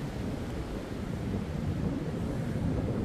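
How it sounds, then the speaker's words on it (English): Storm Isha wind roars and buffets the microphone in a continuous low rumble at a lightweight-shelter camp, fairly quiet overall with no voices. "Yes, it's a little bit windy."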